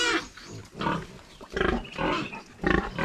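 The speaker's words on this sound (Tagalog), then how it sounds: "At ngayon mga kasinag, nagkakagulo na ang aking mga alagang baboy." Pet pigs squeal loudly in a noisy commotion as a farm sow's piglets are being separated, with repeated shrill bursts close by and no talking.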